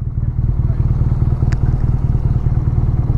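A 2017 BMW R nineT motorcycle engine throbs loudly and close in a steady low pulsing rhythm during a gear change, with one brief sharp click partway through.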